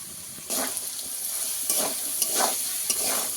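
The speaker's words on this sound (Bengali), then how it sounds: "তাই আলুটাকে ভালো করে একটু ভেজে নেব" Potatoes fry in oil in a pan for ghugni, giving a steady, close sizzle with occasional scraping stirs. There is no talk.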